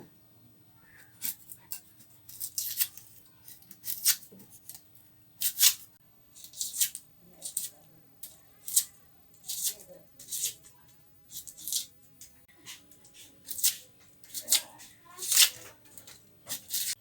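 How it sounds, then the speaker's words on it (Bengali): A knife chops fresh coriander leaves on a board for a Mughlai paratha, making a close, fairly quiet series of sharp, irregular taps repeating steadily over a low background hum. "বন্ধুরা এখন আমি ধনাপাতাটি চুরি করে কেটে নিতেছি"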